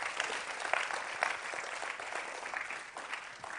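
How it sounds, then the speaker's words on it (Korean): An audience at a church lecture event claps steadily, with a dense patter of many hands, moderately loud and continuous from start to finish. "하나님께 영광의 박수를 올려드리겠습니다"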